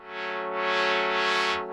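A sustained chord from a Mayer EMI M800 R2 virtual analog Eurorack synthesizer rings out with a steady buzzy tone, its brightness swelling and sweeping, washed in a spacious echoing reverb tail.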